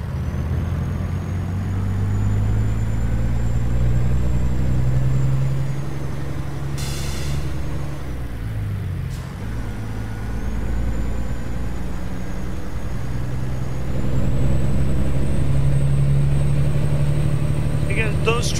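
A truck in American Truck Simulator holds a steady, low engine drone, with a brief sharp hiss like an air brake midway and the engine note rising again near the end.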